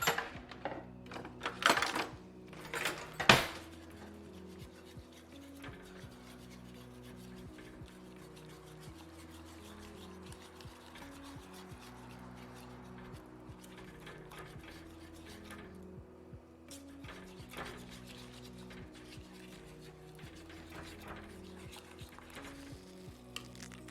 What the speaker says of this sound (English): I'm just tossing in the roux, and this is just gonna like thicken up. Just gotta whisk it in there.